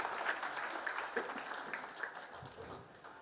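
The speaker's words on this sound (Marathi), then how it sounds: "टाळ्यांचा कडकडाट होऊ द्या" An audience at an award ceremony applauds, a soft, even patter of many hands that holds steady and then fades over a few seconds.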